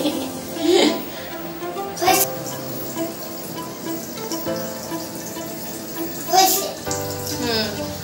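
A faucet runs steadily while a child's face is washed, and voices and a child's sounds come and go over the flow of water.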